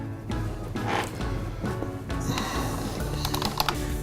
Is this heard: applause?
no